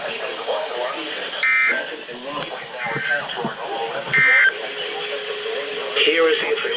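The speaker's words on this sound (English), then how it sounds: "This concludes the weekly test of the warning alarm system." A weather radio's required weekly emergency alert system test plays as a radio broadcast, with a synthetic voice talking throughout while short buzzy data-burst tones sound three times at regular intervals.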